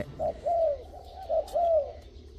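A red mountain dove kept as a decoy bird, hung in a tree, coos in a soft repeated phrase of four low notes, moderately near with quiet background.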